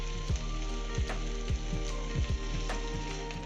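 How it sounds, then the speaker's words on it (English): Prawns hiss and sizzle in a hot pan as a test batch cooks for linguine, a steady close frying crackle with a few louder bursts and no talking. "We get the sizzle."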